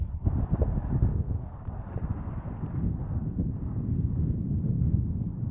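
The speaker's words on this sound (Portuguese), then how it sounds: "aqui o vento é bastante forte" Strong wind buffets a covered microphone outdoors in misty, foggy weather in Nazareth, a steady low roar that rumbles on without a break and with no voices.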